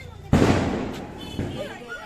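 A firecracker bursts with a loud sharp bang during Diwali celebrations in Guwahati. A second, softer pop follows about a second later, and distant voices sound in the background.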